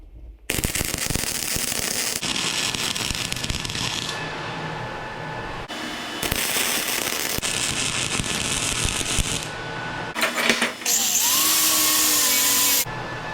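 Flux core wire welding with the machine run out of gas, piling extra beads over a first weld: a loud harsh crackling buzz in several long bursts separated by short pauses, close up and with no voices.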